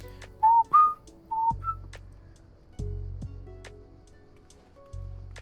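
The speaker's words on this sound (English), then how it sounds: "Can you hear my whistle?" Someone whistles a few short, clear tones in quick succession, fairly close, followed by scattered knocks and thumps of handling gear.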